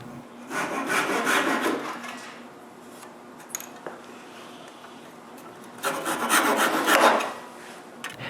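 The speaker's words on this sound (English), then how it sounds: "I begin by measuring the length I need and cut the 4 dowels." A saw cutting wooden dowels to length as corner posts for a handmade wooden cryptex: two close bursts of rapid rasping strokes separated by a quiet pause, with no voices.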